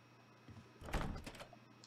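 A locked gallery door in Resident Evil Remake HD rattles against its frame, giving a short, muffled thunk in the middle of the clip over a faint low background hum, with no talking.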